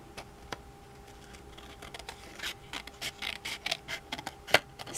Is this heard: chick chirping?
no